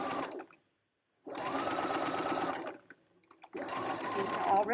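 A sewing machine stitching a waistband onto a skirt runs in three steady bursts, the first brief, with short pauses between; close and fairly loud, with a faint voice in the gaps.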